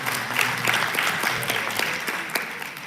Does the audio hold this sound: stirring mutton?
no